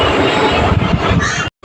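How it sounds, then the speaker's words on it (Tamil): A Chennai to Tirunelveli passenger train departing rumbles loudly with steady low roar and rattling, close by, then the sound cuts off abruptly near the end. "சென்னை டு திருநெல்வேலி அந்த ட்ரெயின் இப்போ தாங்க 2:15 கிளம்புது."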